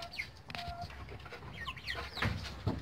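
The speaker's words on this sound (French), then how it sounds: "ma poule Orpington naine chocolat qui est là" A chocolate bantam Orpington hen clucks softly in a short, broken series of calls, close by over a busy, low background hum.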